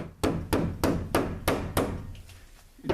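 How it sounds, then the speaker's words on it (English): A hammer taps tongue and groove cedar ceiling boards into place: six evenly spaced, sharp knocks at close range, a short pause, then one more blow. "want to hammer directly on the tongue, or obviously you'll break it"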